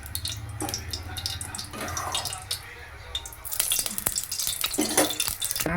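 Oil crackling and sizzling in a pressure cooker with mustard seeds popping in scattered bursts and scraping stirs, fairly close, with a brief voice underneath.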